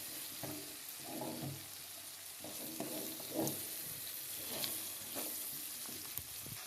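Fresh curry leaves fry in a hot pan, giving a steady close sizzle broken by soft scraping stir strokes, with no talking.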